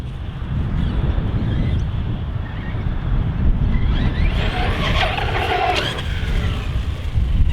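A Team Corally Kagama 6S RC car running on 4S power roars and whines outdoors in heavy crosswind, engine pitch rising and falling through a jump amid constant wind rush.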